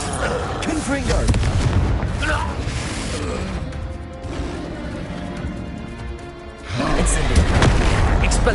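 Confringo fire spell blast in Hogwarts Legacy, a loud booming burst that decays over a few seconds before a second heavy crash at the end.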